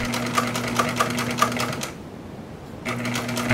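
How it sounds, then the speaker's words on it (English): Industrial sewing machine top-stitching leather upholstery with piping, a rapid rhythmic needle clatter with a steady motor hum, pausing for about a second before starting again, close and loud. "it's joined to the first piece of leather, piping side in with a standard top stitch"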